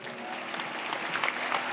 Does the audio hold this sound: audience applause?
yes